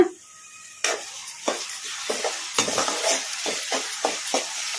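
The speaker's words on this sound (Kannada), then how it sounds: "ಉಳ್ಳಾಗಡ್ಡಿನ ಲೈಟ್ ಬ್ರೌನ್ ಕಲರ್ ಬರೋವರೆಗೂ ಫ್ರೈ ಮಾಡ್ಕೊಂಬಿಡೋಣ" Chopped onions fry in hot oil in a pan, with a steady sizzle broken by repeated scraping stirs of a spoon at close range; no one speaks.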